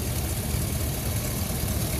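A 2004 Hummer H2's 6-liter engine idles steadily with a dense, even low rumble and broadband noise throughout, close and fairly loud, with no voices.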